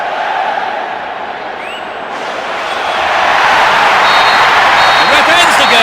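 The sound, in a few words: crowd roaring and applauding at the final whistle in a football video game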